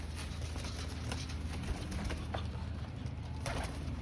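Pigeons cooing at a bird market or loft in Pakistan, soft repeated low coos over a steady busy outdoor background, with faint clicks and clatter scattered through.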